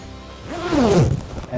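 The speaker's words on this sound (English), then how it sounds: "you zip it up" A zipper being pulled up on a lightweight heated motorcycle base-layer jacket gives a short, close zipping rasp lasting about a second.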